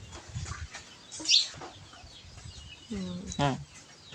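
Chickens cluck and squawk while feeding in a rural yard, with brief calls rising over a woman's chatter in Thai and faint bird chirps.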